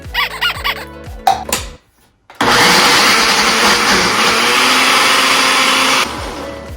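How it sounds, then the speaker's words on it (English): A kitchen blender runs loud and steady for about four seconds, blending chickpeas into hummus, then cuts off abruptly; brief clatter and handling noises come before it starts. "Now you're just gonna blend it."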